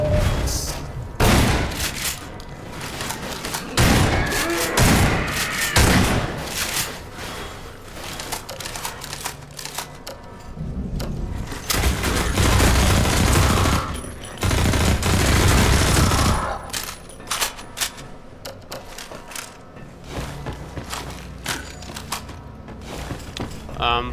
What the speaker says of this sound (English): Some of the SMG and the AR2 in this feel pretty wimpy, but the shotgun feels beefy.